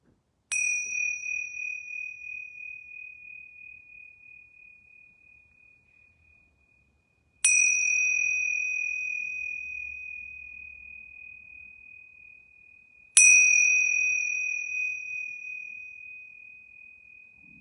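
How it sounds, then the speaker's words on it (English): Yoga bells struck three times during a relaxation session, each a bright, pure ringing tone that rings on and slowly fades before the next strike, spaced several seconds apart in an otherwise quiet room. "I'm going to ring these yoga bells 3 times."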